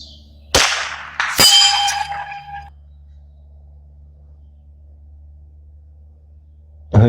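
A rifle shot cracks, then a steel long-range gong at 300 yards rings with a bright metallic clang that decays over a second or so, with a second shot at the very end.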